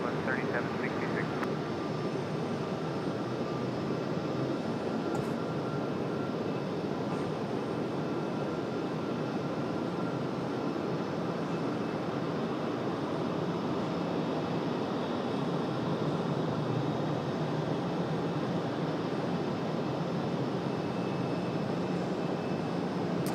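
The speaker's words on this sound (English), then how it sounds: "Southwest 3766, the wind is calm on departure, flight runway heading, runway 23 left, clear for takeoff" A Southwest jet departs runway 23 left at Raleigh-Durham airport, producing a steady, broad engine roar that holds constant at moderate distance throughout, with faint radio or talk underneath.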